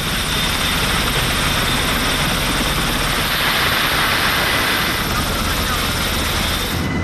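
An Aegean Hawk helicopter in flight, its rotor and engine roar loud, steady and continuous, heard from inside or very near the aircraft.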